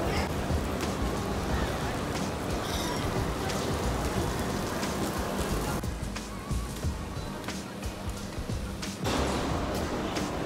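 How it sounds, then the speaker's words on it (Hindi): Heavy rain pours steadily outdoors in a city market area, a dense continuous hiss of drops on surfaces with a slight dip partway through, loud and unbroken throughout. "पूरी बारिश बारिश।"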